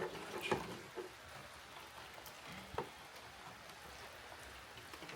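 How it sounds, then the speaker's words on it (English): Cold rain falls outdoors as a steady, faint hiss with occasional soft drips and taps. No voices are heard. "It's cold and raining out here."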